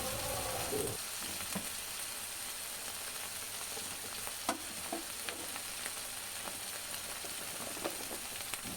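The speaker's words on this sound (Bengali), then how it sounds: "এইভাবেই এক দু মিনিট মশলাটা কষাবো" Ginger-garlic spice paste frying in a pan for a couple of minutes, a quiet, steady sizzle with occasional light scrapes and taps of stirring, close and without voices.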